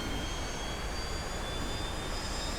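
Right jet engine of an F-4B Phantom spooling up toward idle during a carrier cold start in the DCS flight simulator, a steady loud turbine roar with thin high whining tones held throughout.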